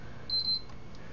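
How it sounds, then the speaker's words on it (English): A single high electronic beep sounds from a PS3 console, followed shortly by a pair of quick beeps, thin and clear over a faint hiss. "You'll hear one beep, and then you'll hear two consecutive beeps."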